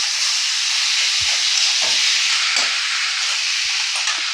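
Drumstick leaf pulp fries in a pan with a loud, continuous sizzle and hiss, broken by a few soft stirring knocks.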